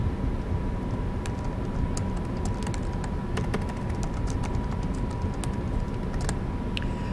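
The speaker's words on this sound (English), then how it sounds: "You can also add your own comments by clicking in the comment box and simply typing." Rapid keystrokes on a computer keyboard while typing comments into a box, irregular clicks heard over a steady background hum with no talking.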